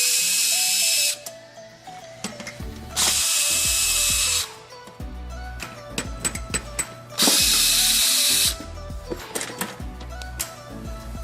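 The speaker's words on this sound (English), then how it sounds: "Now here we have 3 screws. Okay, I'm going to go ahead and take these out." Power drill backing three screws out of the elevator motor bracket on a treadmill, in two long steady whirring bursts separated by clicks and small handling clatters of the screws and tool.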